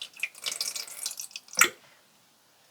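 Pomegranate juice is poured into a container, a close splashing liquid trickle that ends in a distinct drip or plop, then quiet.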